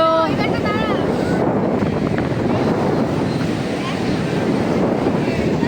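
Sea surf and strong wind at a beach make a constant, loud, dense roar, with gusts buffeting the microphone and a brief voice near the start.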